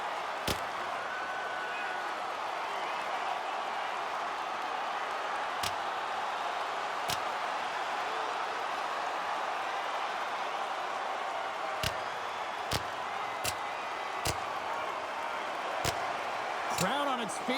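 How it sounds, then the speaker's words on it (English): In the NHL 26 hockey video game, an arena crowd cheers during a fight on the ice. The steady roar is broken by several sharp slams or thuds. "Crowd on its feet for this one"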